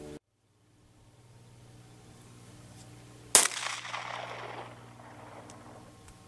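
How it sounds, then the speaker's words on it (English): A single sharp crack from a Ruger Mark III Target .22 LR pistol fired at a tossed golf ball outdoors, fairly loud with a brief trailing noise, after a low steady hum. "we're going to shoot this golf ball out of the air"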